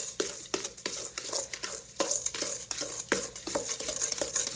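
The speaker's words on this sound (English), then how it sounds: "I'm going to mix this together" Whisking egg and milk together in a bowl for apple cinnamon muffins: a steady run of quick scraping and tapping strokes, close and moderately loud, with no talking.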